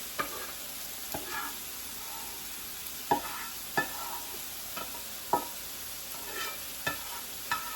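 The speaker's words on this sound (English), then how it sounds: "We're going to put all the hot stuff on top of it, and we're going to mix it all around" Couscous being stirred together with hot sautéed vegetables in a pan, a soft continuous sizzle broken by a series of distinct spoon scrapes and taps at irregular intervals, close and clear with no talking.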